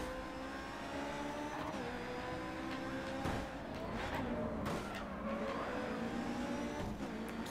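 A light, small race car in GRID 2 with its engine revving hard and steadily, tires squealing and skidding through corners, loud and close throughout with no talking.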